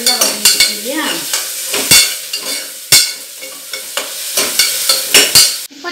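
Sautéed onion masala for curd chicken is stirred in a hot pan: loud, close sizzling broken by repeated spatula scrapes in an uneven rhythm, with no talk.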